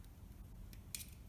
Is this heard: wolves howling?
no